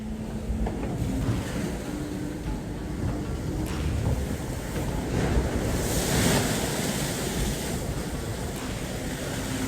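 On a racing sailboat in the Vendée Globe 2024, strong wind around 50 knots roars across the microphone while waves rush and surge around the hull in a constant loud wash that swells near the middle, with no talking.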